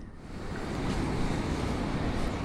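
Surf rolls onto a beach at Pacitan, a continuous broad roar of waves that swells slightly louder over the clip, mixed with wind buffeting the microphone.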